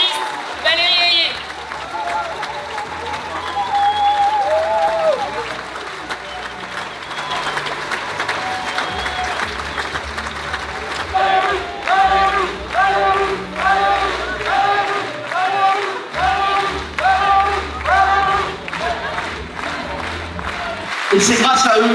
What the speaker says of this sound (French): je vous demande un tonnerre d'applaudissements pour Monsieur le Premier ministre Gabriel At